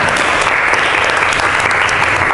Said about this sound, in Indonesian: tepuk tangan untuk semua kelompok yang telah presentasi